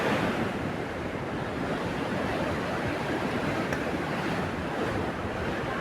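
Rukse waterfall flows in a steady, dense roar of rushing water, loud and unbroken from start to finish with no voices.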